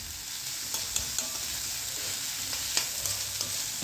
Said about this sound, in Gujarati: હવે આને થોડાક ફ્રાય કરીશ.